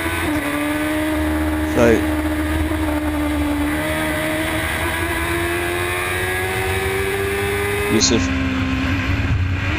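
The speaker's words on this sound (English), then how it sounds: "As these cars really scream their way down through 13" Formula Gulf 1000 single-seater race cars scream along the circuit, a loud, sustained high-revving engine wail with rising pitch and brief gear-change breaks, under a commentator's voice.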